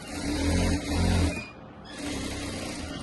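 A sewing machine stitching a Rajputi kurti whirs in two short close bursts, then settles into a softer, steady mechanical hum with no voices.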